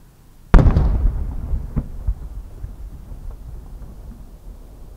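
A Japanese shakudama shell with special-metal kamuro stars and a double core bursts into a triple-layered bloom at a fireworks festival in Fukushima, one sharp loud boom followed by a rumbling echo and scattered faint crackles fading away.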